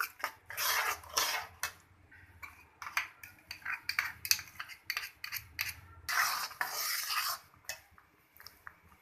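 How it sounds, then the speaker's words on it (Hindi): Chana dal halwa with ghee, sugar and milk being roasted and stirred in a pan, an irregular run of close metallic scrapes and clinks from a spoon against the pan, with short pauses between strokes. "दाल की भुनाई कर रहे हैं दोबारा से।"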